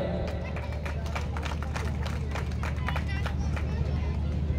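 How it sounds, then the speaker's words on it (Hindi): Clapping from an audience at a Kargil Vijay Diwas 25th-anniversary ceremony honouring former soldiers, a moderate round of hand claps over a constant crowd murmur and low background rumble. "एक बार जोरदार तालियां।"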